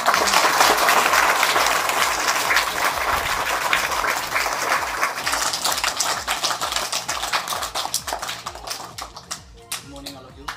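A school audience gives dense, sustained applause for students who won karate medals. The clapping stays loud at first, then thins into scattered claps that trail off.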